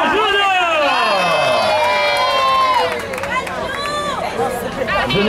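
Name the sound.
crowd applauding and cheering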